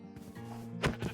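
A sheep from the game Nature's Beauty gives a short, nasal bleat, close and moderately loud, one brief call with a second quieter waver at the end.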